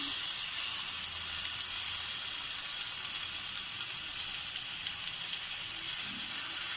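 Ginger paste and turmeric powder frying in oil in a pan, a soft, even hiss of sizzling that holds steady and fairly faint throughout, with no voices.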